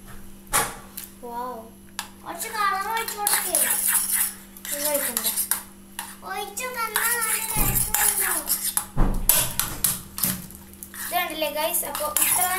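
A utensil is stirred through slime and activator in a bowl, giving repeated clinking and scraping against the bowl. A voice and other talk come and go over it.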